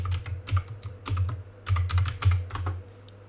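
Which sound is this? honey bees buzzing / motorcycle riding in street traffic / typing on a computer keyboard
typing on a computer keyboard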